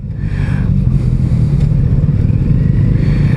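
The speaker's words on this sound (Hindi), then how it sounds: "मेरे आगे आपको शायद ग्रीन कलर की सुपर बाइक दिख रही होगी" Engine roar from a green Kawasaki ZX-10R superbike riding ahead on a road near Siliserh Lake, Rajasthan, a steady loud low drone that continues without a break for a few seconds, with no talk.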